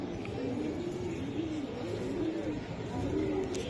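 A racing pigeon coos in a low, repeated rolling call, close by over a steady background hum.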